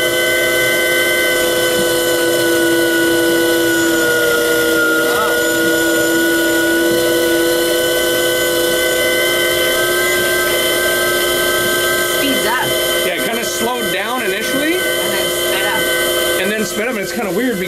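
An off-grid micro hydro turbine spins with a steady, loud tonal whine and hum. The sound shifts and grows rougher near the end as a second nozzle is opened.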